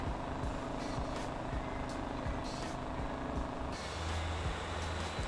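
A heavy truck in the Motor Town game rumbles along, its air brakes hissing to a stop with engine drone underneath and no talking.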